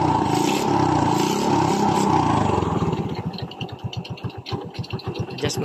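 A Honda XRM 110 motorcycle engine idles close by, a steady running note that settles into a distinct, fast, even pulsing after a few seconds, with no talk over it.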